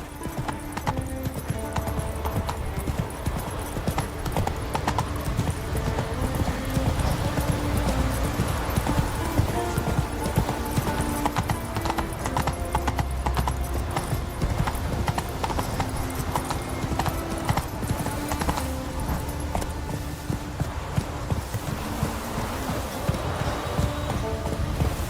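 A horse's hooves clip-clop in a steady gallop rhythm in The Witcher 3, under constant game music and ambience, with an occasional snort.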